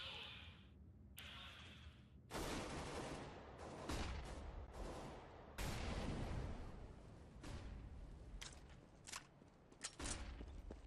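Pre-firing gunshots in a CS:GO grand finals match ring out in sharp, loud bursts and rapid volleys across the stretch, with background noise between them.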